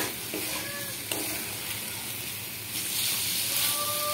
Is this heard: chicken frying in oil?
yes